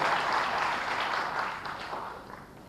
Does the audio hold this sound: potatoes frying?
no